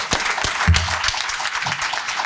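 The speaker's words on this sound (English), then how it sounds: "so can we give them a round of applause?" An audience at a recovery-friendly workplace conference panel claps, scattered and uneven hand claps at moderate volume in a room, with a low murmur beneath.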